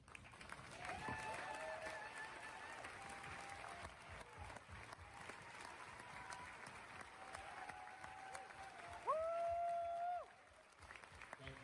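Broad, steady clapping from a standing audience at a SXSW Q&A fills the space at a fair distance, with a brief tonal whistle-like sound rising near the end before the applause fades.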